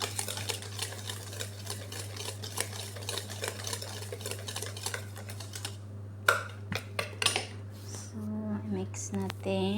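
Cake batter with sugar for an orange cake being mixed, with rapid clicking and scraping strokes over a steady low electrical hum, growing busier toward the end while a person talks.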